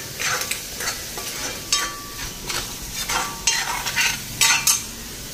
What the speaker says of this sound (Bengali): মাছের মশলাও ফ্রাই হয়ে গেছে